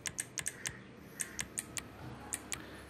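Arrow keys and other keys tapped on a PC keyboard while changing GTA 5 display settings, a dozen sharp, close, evenly spaced clicks over a quiet room background.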